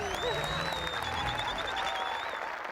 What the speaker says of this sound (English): Clap again!